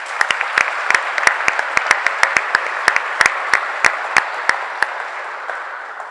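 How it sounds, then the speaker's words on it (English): Audience applause at an elementary school graduation ceremony: steady, dense clapping from a large crowd, with sharp individual claps standing out near the microphone. It fades slightly toward the end and no one speaks over it. "so let's give ourselves a round of applause."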